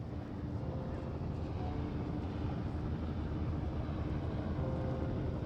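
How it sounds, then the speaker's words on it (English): Helicopter arriving in the video game Firewatch, a steady low whirring drone that holds at an even level throughout with no rise or fall. "There's the helicopter."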